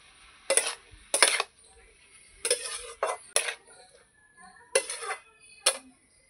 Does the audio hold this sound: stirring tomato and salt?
yes